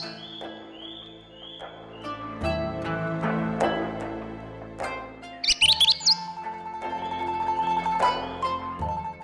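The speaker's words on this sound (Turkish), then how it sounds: "Kuş sesleri mi? Tabii ki var." Several birds chirp and whistle in a lively forest chorus in Polonezköy Nature Park, Istanbul, repeated tweets and trills layered over one another, clear and fairly close.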